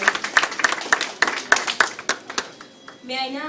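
A crowd claps for someone at a ceremony with the Korean Olympic team, a dense run of hand claps with sharp individual strikes that thins out and stops, after which a voice begins speaking.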